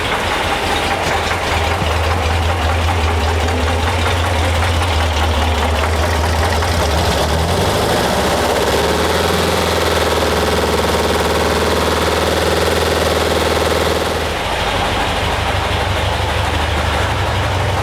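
A Porsche 912 engine running steadily, then revved up, with a loud rough mechanical drone and knocking texture throughout, the pitch shifting as the revs rise and settle.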